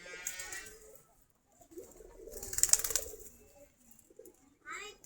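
Giribaz pigeons coo softly while eating in the morning, several low close calls rising in a brief cluster, with people talking around them.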